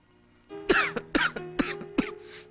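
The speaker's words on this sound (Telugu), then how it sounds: "ఈ దగ్గు కాస్త మందిస్తావనే నీ దగ్గరికి వచ్చాను" Four or five harsh, close coughs come in a quick, fairly even series, loud and clear against quiet background, in a Telugu comedy film scene.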